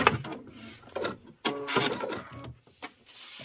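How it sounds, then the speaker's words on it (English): A sewing machine stitches into the corner of a Kimberbell mini quilt in short bursts, with pauses between runs and some handling noise, close and fairly quiet. "I'm going to sew into that corner and cut"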